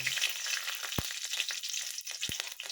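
Green chillies in hot oil in a kadai: steady sizzle crackles throughout, with a couple of brief low knocks from the pan or a utensil.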